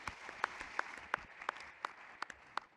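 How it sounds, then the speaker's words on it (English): Audience applause after a talk at a Huntington's disease conference is soft and diffuse, with a few sharper individual claps standing out at regular intervals. "Round of applause"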